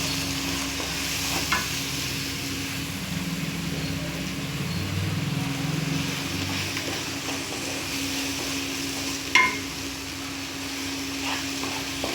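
Spices sizzle in hot oil with turmeric, a soft steady frying hiss broken by occasional stirring scrapes and a sharp clink, heard close under a low background hum with no talking.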